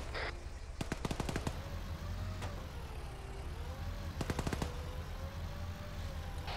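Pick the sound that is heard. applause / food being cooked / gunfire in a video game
gunfire in a video game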